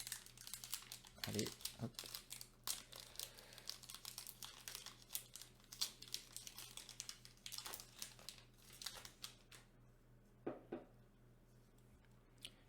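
Plastic packaging on a Pokémon card box crinkles and tears in close bursts of rustling, with someone speaking briefly over the handling.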